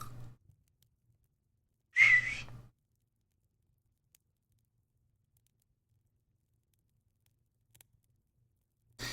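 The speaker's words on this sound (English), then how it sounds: "So that's more grass whistles." A single short, high whistle from a grass whistle being made in the video game Salem stands out against near silence, with faint ticks before and after.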